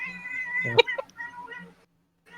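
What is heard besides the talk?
domestic cat meowing loudly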